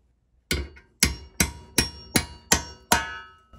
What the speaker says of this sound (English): I'm gonna take a hammer and a chisel.